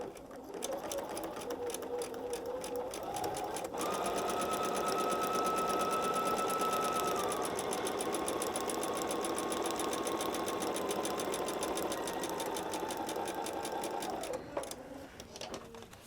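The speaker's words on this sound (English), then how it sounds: "I'll start right off the edge, right on this line, and sew right off." A sewing machine runs a steady, fast, close stitching whir through paper-pieced quilting fabric at a shortened stitch length, continuing for most of the clip before slowing to a stop at the end.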